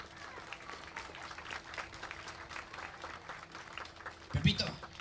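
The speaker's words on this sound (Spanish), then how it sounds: "¿Qué les parece si le damos un fuerte aplauso a nuestro amigo Pepito?" Applause from a children's audience at a show with a police-officer character in Catamayo: steady, moderate clapping throughout, swelling into a louder burst near the end, with voices mixed in.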